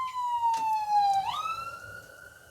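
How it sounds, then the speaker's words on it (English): A siren wails at steady pitch, then slides upward into a new tone, heard at moderate distance over low background traffic rumble. "I hear the siren, that's why I said noise."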